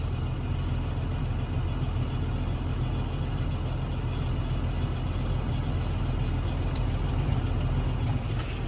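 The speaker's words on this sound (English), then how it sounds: "What do you think of the tractor ride, Slugger?" A tractor engine drones steadily and close during a farm ride while hauling manure, a constant low rumble with mechanical rattle and no pauses.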